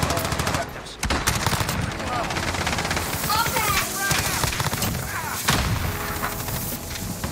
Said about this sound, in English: I'm going with the MP5. I'm going to try to drop a lot of kills with it.